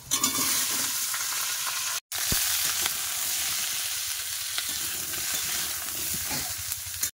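Vegetable curry frying in a pan with pumpkin and five-spice, a steady loud sizzle with scraping stirs throughout, briefly cut off near two seconds before resuming.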